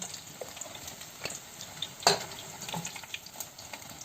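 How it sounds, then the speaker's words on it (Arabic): Cauliflower crackles as it fries in oil, a close bed of crisp sizzling with small pops scattered through it and one sharper, louder burst partway through. "هنا بقى سامعين القرمشه؟"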